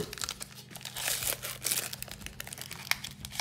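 Crinkly foil of a Pokémon Charizard booster pack being torn and crumpled open up close, a continuous dry rustle with sharper rips, no talking.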